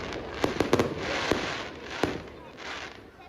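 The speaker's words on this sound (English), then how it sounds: "the fireworks began, so I just thought I'd show you that" Large fireworks bursting at a night village festival for the Madonna in Vallelonga, Calabria, a series of distant sharp pops and booms over crowd noise and background chatter.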